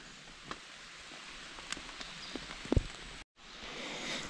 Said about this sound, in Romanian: ploaia a început din nou